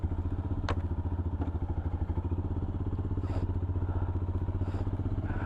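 A Royal Enfield Himalayan motorcycle rides a foggy mountain road near Dirang: a steady, close engine thrum with a rhythmic pulse, plus occasional clatters and thumps from the road.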